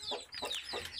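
A hen clucks softly near her newly hatched chicks, giving three short, close clucks, with faint high peeps of the chicks running through them.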